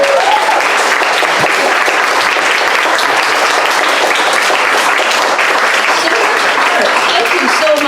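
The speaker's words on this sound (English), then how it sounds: "Can we give Andy another applause?" Audience at a storytelling event in the Chinese American Museum of Chicago gives a storyteller a round of applause, steady, dense clapping filling the whole stretch at close range without pause.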